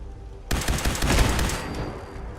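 A laser pistol in Fallout 4 lets off a sudden rapid volley of sharp zapping shots, loud and close, which trail away into a fading hiss after about a second.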